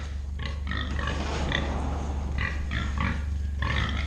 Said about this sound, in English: Those are the pigs